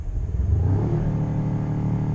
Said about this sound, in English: It rocks the truck a little bit just revving it up